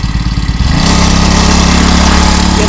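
A 4-stroke petrol spray pump engine throttles up from a sputtering idle to a loud, steady high rev and holds there, close and alone without talk.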